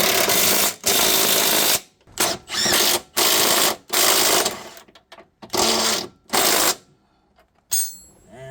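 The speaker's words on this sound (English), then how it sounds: "Now let's tighten these bolts over there" Ratchet wrench tightening front lower control arm bolts on a 2011 Infiniti EX35, loud close bursts of rapid clicking in repeated strokes separated by short pauses, ending with a final quicker run.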